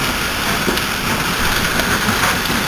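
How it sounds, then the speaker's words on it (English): Hailstorm in Stockbridge pelting down with pea- to marble-size hail amid extreme high wind, a loud, dense, continuous rattling roar with no pauses. "We have got a hailstorm here"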